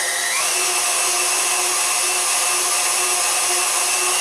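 An electric grinder grinding deer meat for homemade jerky runs as a loud, steady motor whine with a slight pitch shift at the start, continuous and close with no talking.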